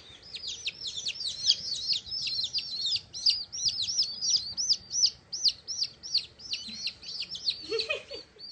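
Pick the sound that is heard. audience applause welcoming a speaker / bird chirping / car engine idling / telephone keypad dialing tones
bird chirping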